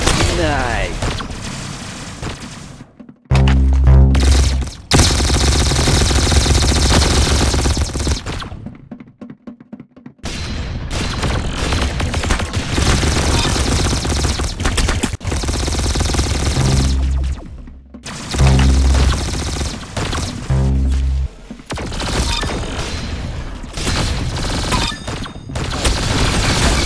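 Gunfire in the shooting game Arsenal comes as loud bursts of shots and booming impacts, broken by short pauses, with players talking over the action.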